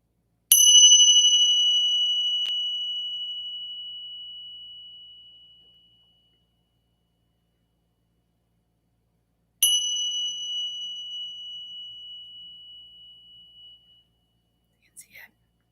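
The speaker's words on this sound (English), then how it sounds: "So I just want to start with some 3 chimes before we get into our new moon work." Chimes struck during a new moon ceremony: long, bright, ringing tones that decay slowly over several seconds, one strike early and another near the middle, with a brief faint tap at the end; no talking.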